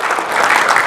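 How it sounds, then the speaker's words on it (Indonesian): Applause from an audience at a Megathrust earthquake preparedness outreach session, given for four people, dense and steady clapping with no voices over it throughout the short burst. "Tepuk tangan tuh buat 4 orang."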